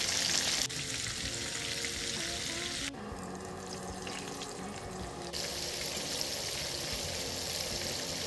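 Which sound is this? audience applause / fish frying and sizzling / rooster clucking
fish frying and sizzling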